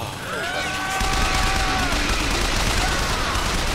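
Dense gunfire and explosive crackle in the video game Bioshock Infinite, a continuous loud battle roar with whistling tones layered over it early on.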